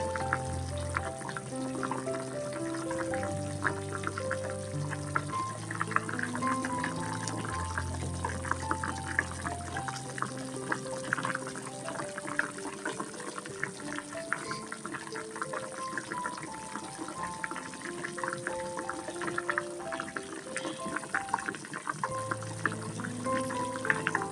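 Sugar syrup boiling steadily in a pot for kalojam sweets, a dense continuous bubbling simmer at close range, with faint tonal hum beneath and no talking.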